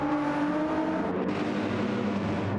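Race cars lapping Monza in a multiclass racing video game league, a steady loud engine drone with shifting pitch running throughout, no voices.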